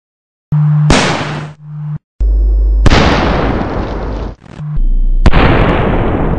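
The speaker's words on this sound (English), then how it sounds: "You better have a big boom this time." Loud blasts from an explosives demonstration, several sharp bursts that each open into a long, rough roar, close and very powerful, with short pauses between them and no talking.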